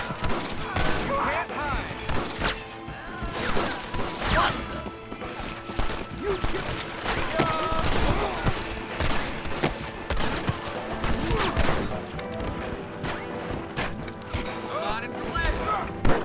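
Scattered gunfire in Red Dead Redemption: irregular sharp shots and cracks mixed with clatter, hoofbeat-like knocks and mechanical noise, heard alongside a talking voice.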